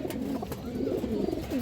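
A single pigeon offered for sale coos close up in a rolling, throaty series of low calls over a short stretch, clear and unaccompanied by speech.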